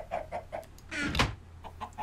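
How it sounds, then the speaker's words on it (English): Chickens cluck in Minecraft in a run of short, clipped calls around a brief louder burst of sound. "I hear chickens no matter what now"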